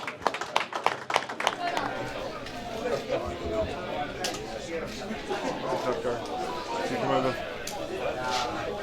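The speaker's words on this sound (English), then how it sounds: "Please give them a round of applause." An audience claps for two fighters at a fight club event, a burst of sharp individual claps settling into scattered clapping mixed with crowd chatter and talking voices.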